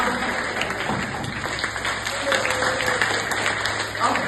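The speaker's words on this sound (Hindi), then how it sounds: "एक बार खुद के लिए तालियां बजाओ" Audience at a Hindi talk on parenting and youth mental health clapping for themselves, a sustained mass of applause mixed with crowd chatter and a voice or two over the noise.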